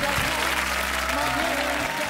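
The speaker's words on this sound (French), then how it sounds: "Applaudissements, mesdames, messieurs." Studio audience applauding on a French television variety show, a steady dense wash of clapping over a low sustained musical tone, with a voice briefly heard over it.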